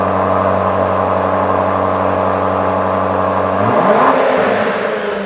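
A Range Rover Sport SV fitted with a QuickSilver Sport Exhaust and 4.5 by 4 inch ovalised tailpipes idles with a deep, steady hum, then near the end blips its throttle into a sharp rising rev that settles back.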